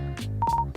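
Phone dialing tones in the video game Endless Monday, a short burst of quick electronic beeps with one steady tone held briefly, close and clear over a low background hum.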